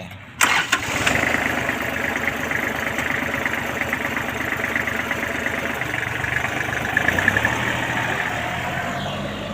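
An old Japanese Kubota L1-275 four-wheel-drive tractor with a 27-horsepower three-cylinder diesel engine cranks briefly, catches and settles into a steady, close idle for several seconds, alone without talk.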